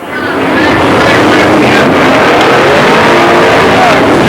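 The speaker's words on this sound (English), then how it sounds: "He's moving into position now. The 8 car, flanked by the 48 of Johnny Johnson." Late model stock cars racing on a speedway oval, a loud, sustained roar of engines swelling in over the first half second and holding steady at close range with no break.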